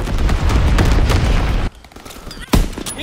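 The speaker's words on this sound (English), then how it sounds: "Incoming enemy artillery." Heavy artillery explosions rumble loud and dense through a first-person war video game battle, a sustained roaring barrage that cuts off abruptly, followed by a quieter lull and one more sharp blast.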